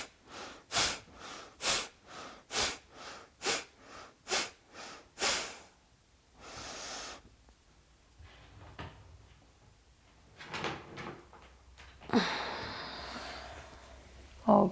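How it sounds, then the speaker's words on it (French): Kapalabhati yoga breathing: a run of about ten sharp, forceful nasal exhalations in a steady quick rhythm, close and loud, followed by quieter breathing and a few softer breaths. "des Kapalabhati très accentués. Donc, tu souffles vraiment puissamment avec la bouche fermée"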